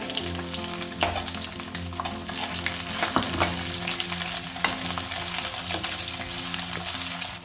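Paneer and ginger frying in a pan, a constant crackling sizzle with a few sharp knocks of a utensil stirring, over a low steady hum.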